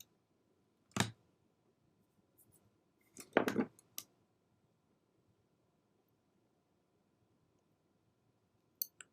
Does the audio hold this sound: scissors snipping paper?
yes